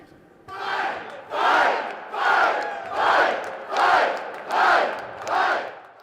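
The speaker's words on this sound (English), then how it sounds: "Braun told the cheering crowd down the hallway from the House and Senate chambers" A crowd at an Indiana property tax rally, gathered in a hallway near the House and Senate chambers, cheers and chants in six loud, rhythmic swells, each lasting about half a second with brief lulls between them.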